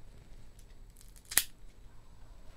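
A V cutter clips the head of a Camacho Connecticut BXP cigar in one sharp, close snip against a quiet background.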